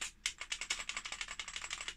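Keys pressed on a ZX Spectrum Plus home computer keyboard under repair, a quick, close run of about a dozen crisp plastic clicks in an uneven typing rhythm, with no talk.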